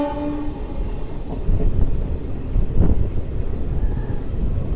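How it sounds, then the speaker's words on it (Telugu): MEMU express train pulling out of Machavaram station (MCVM) on a foggy morning, a steady close rumble of rolling wagons with wind buffeting, swelling louder midway and holding a continuous low roar. "ట్రైన్ వచ్చేసి మాచవరంకి అయితే వచ్చింది, బయలుదేరిపోయింది."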